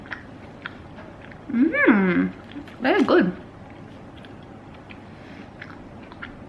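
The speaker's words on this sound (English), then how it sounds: "There's like this crunch." Mouth-full chewing of mint chocolate with peppermint crisp, two short bursts of wet, crunchy mastication close to the mic, with someone speaking briefly.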